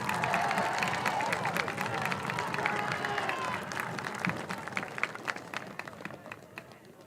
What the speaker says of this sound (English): Could you please give a round of applause to all our third-year marchers?